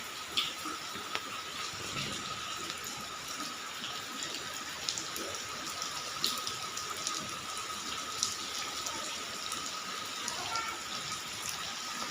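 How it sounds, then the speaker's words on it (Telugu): Steady, dense rush of falling water fills the whole clip, a constant hiss like heavy rain pouring down nearby, with no pauses. "వర్షం అయితే ఇలా దంచి పడుతుంది"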